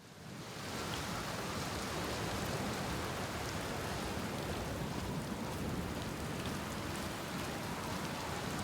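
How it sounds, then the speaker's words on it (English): Steady, dense rain pours down in the game Outer Wilds, a continuous hiss of drops with a faint low rumble beneath. It is loud and even throughout, with no talk. "Hey, it's raining."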